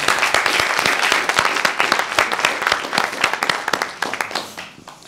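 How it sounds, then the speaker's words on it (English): An audience at a talk gives a round of applause for a cyclist from the delegation, a lively burst of many hands clapping with sharp individual claps that thins and fades out over the last second. "Round of applause to her."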